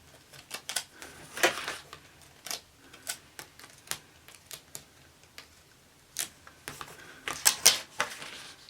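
Tape pressed and smoothed onto a bullet journal page, heard as a string of soft, close ticks, taps and crinkly peels, irregular and faint, with a brief busier burst near the end and no talk.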